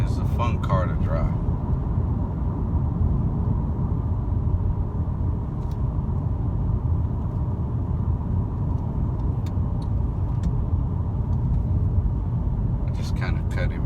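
A 2013 Mercedes C250 cruises with a steady low engine and road rumble heard from the cabin, continuous and moderately quiet, with a few faint clicks and brief noises near the start and end.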